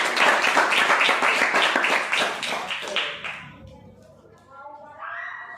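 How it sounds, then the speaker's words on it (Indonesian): Rhythmic clapping from a school class, loud and steady for about three seconds before cutting off, followed by a quieter stretch with a faint voice near the end. "Tepuk tangan untuk kalian semua"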